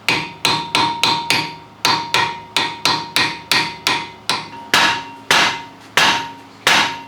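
Good hard hammer taps on an axle during engine removal from an Abarth 500, a steady run of about eighteen sharp metallic blows with ringing decay, close and loud, no talk.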